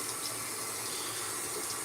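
Water runs steadily from a tap into a sink as warm water is set up for a shave, a continuous broadband hiss with no voices over it.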